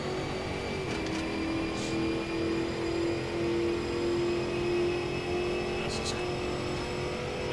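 A race car in the Automobilista 2 video game pulls out of pit lane with a steady, droning engine note that holds at a constant pitch, while someone talks over it.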